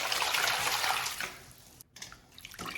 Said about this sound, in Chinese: 接下来加入清水